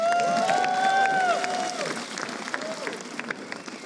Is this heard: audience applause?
yes